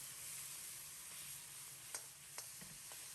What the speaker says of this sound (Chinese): 酱炒香以后，再把肉炒在一起。